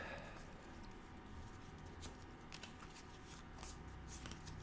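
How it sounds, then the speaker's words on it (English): An oracle card deck is shuffled close up, giving a steady, continuous papery riffling and sliding with small clicks, heard alone without talk. "as I shuffle the oracle deck"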